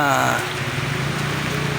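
Rain pours down on a covered street market in Cuayan, Angeles City, Pampanga, a steady broadband hiss and patter that runs through the whole stretch, with voices and market bustle mixed in beneath it.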